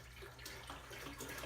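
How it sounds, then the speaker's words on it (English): Water pours steadily from a gallon jug into a big pot for a turkey brine, a continuous close rushing splash that lasts throughout with no talking. "So I'm gonna add the other gallon of water."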